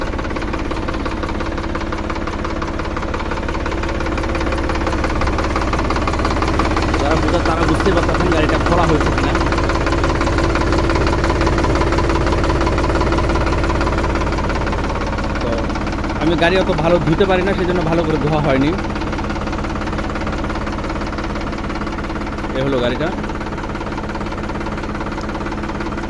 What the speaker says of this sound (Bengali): গাড়ির সাউন্ড আপনারা শুনতে পাচ্ছেন